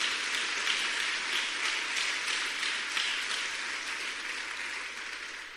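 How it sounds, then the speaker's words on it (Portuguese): Sustained audience applause at a church service, a steady wash of many hands clapping together that fills the whole stretch and tapers off slightly toward the end. "Se é para Jesus, pode aplaudir o Senhor"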